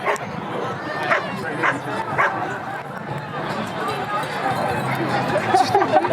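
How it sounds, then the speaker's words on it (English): Playful yips and bow-wow barks from a dog at an outdoor dog festival in Somerville, a few short bursts rising over a steady crowd murmur with people chatting nearby throughout. "Dog is having too much fun."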